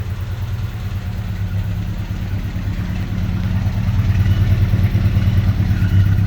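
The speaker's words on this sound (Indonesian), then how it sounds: "Ini mesinnya udah nyala teman-teman." An older used Toyota Kijang's engine runs steadily at idle, a close, continuous low rumble with a rhythmic clatter that grows slightly louder toward the end, with no talking.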